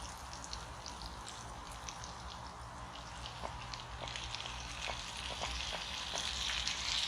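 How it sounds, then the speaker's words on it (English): Tomatoes sizzle and spit softly in a frying pan on a Trangia camping stove, a steady low crackle with scattered small pops, slowly building over several seconds. "You hear the sizzle? That's because it's got all that fluid in it now."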